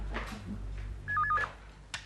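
A telephone gives a short electronic ring burst partway through, set over a quiet room hum, with no voices.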